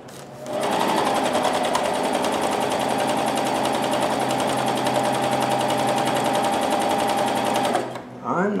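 A Janome CoverPro1000 coverstitch machine runs a double-needle test seam, a steady, fast mechanical whir held for about seven seconds close up before it stops, with a brief voice at the very end.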